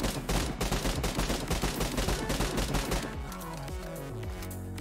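Rapid gunfire from the mobile battle royale game BGMI, dense bursts of shots rattling continuously for several seconds before easing into a steadier, softer volley, loud and up front.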